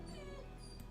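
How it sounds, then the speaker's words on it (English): A dog whimpers and whines in a high, thin, wavering tone. It sounds close and steady for under a second, and nobody speaks. "Sorry about the dog, guys."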